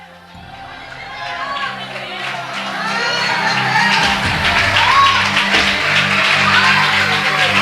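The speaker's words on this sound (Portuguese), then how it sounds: "Se é para aplaudir a Jesus, aplaude mais alto, porque Ele merece" A church congregation at a 40th anniversary service in São Paulo claps and cheers, building from a quieter start into loud, sustained applause with whoops and crowd noise.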